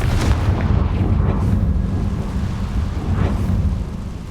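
A Confringo fire spell bursts in the Hogwarts Legacy video game, a loud, sustained low rumbling blast with crackling bursts rolling on for several seconds, no voices.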